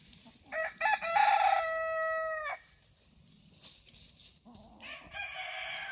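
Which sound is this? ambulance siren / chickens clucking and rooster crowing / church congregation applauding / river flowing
chickens clucking and rooster crowing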